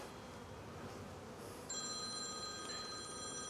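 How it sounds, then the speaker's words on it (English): A phone rings with a steady electronic tone that starts partway through, over a buzzing background of honeybees at an open beehive. "My phone's ringing now."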